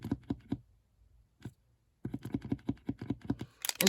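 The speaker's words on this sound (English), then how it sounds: "pump the nib" A marker pen nib is pumped against a surface to start the ink flowing, giving a run of quick, dry tapping clicks in two bursts separated by a brief pause, close and fairly crisp.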